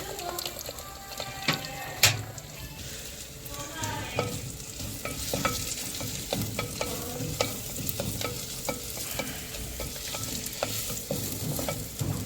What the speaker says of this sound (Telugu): కొంచెం ఫ్రై కావాలి. అది ఫ్రై అయినాక ఆనియన్ వేసుకోవాలి.